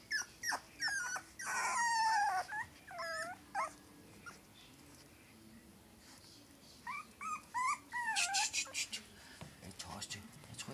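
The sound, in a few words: dogs growling and whimpering at night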